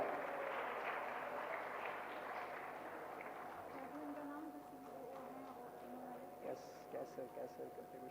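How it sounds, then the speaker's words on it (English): Audience applause at a computing and artificial intelligence conference, a broad steady wash of clapping throughout that thins toward the end, with some voices mixed in. "A huge round of applause for Ms. Sibga Raza Khan."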